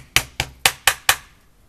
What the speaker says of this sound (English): You can hammer a little bit.